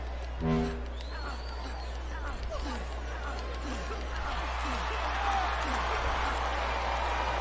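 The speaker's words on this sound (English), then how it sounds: "I think these superstars are getting some feedback from the crowd, JR." A video game wrestling crowd cheers and claps in a steady wash of noise, with a few short whistles and shouts rising above it.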